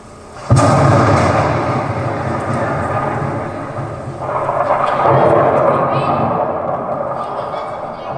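A sudden loud crack of thunder breaks into a long, deep rumble that rolls on, swelling again before slowly fading.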